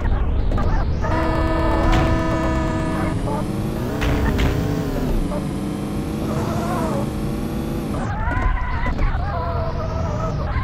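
A car drives in a video game, its engine a steady loud drone that rises and falls in pitch with shifting revs, continuous throughout with a dip near the end, and a voice speaks briefly underneath.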